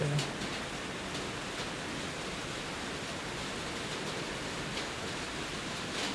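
Pouring rain falls as a constant, dense hiss, even and unbroken throughout, moderately loud with no voices over it.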